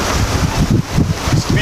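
Steady wind buffeting the microphone aboard a small sailing boat off the Peloponnese, Greece, in a constant Force 6 breeze, with low rumbling gusts and water noise filling the whole stretch.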